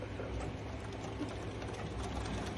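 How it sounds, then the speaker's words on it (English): A sewing machine runs steadily, stitching both sides of a Velcro strip onto a garment being altered for shoulder surgery, with a continuous low mechanical whirr throughout and no pauses. "I'm gonna stitch both sides of this Velcro."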